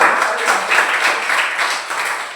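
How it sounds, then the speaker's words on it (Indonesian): Schoolchildren applaud in a primary school classroom, a steady wash of many small hands clapping together, fairly close and continuous for a couple of seconds with no talk over it. "Iya, tepuk tangan."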